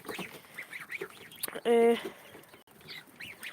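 Chickens on a farm give a short, loud squawk in the middle of a background of scattered clucking and soft bird calls, with faint talk and barnyard noise around them.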